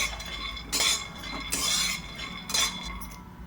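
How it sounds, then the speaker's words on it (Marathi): Peanuts roasting in a hot kadhai give off soft metallic scrapes and rattles that come in a few separate bursts as a spatula stirs them, close by and fairly quiet with no talking. "मी अर्धवट आता पहिलं शेंगदाणे भाजून घेते"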